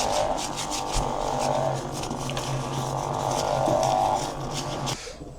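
A brush scrubs soaked Triumph T140V engine crankcases in continuous close rubbing strokes. The gritty scraping runs for several seconds and stops abruptly near the end.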